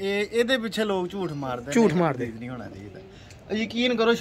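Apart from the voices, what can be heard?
None of the usual background noises is heard.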